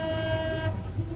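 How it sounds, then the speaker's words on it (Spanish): A boat at Universal Orlando sounds a steady, sustained horn tone at night, holding for most of a second before cutting off, with theme-park ambience underneath. "Ahí nos viene tocando la bocina."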